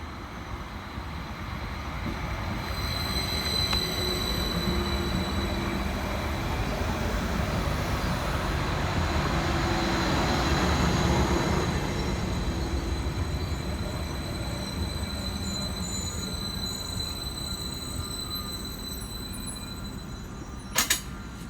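Transport for Wales train 231001 pulls into a station on the Rhymney line, a steady rumble building and easing with a faint wheel squeal near the end.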